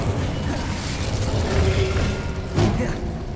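Incendio fire spell cast in Hogwarts Legacy on PS5: a continuous roaring, crackling magical blast with a low rumble, swelling into a sharper burst near the end.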